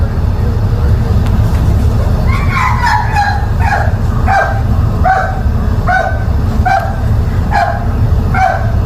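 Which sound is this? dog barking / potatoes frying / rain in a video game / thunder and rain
dog barking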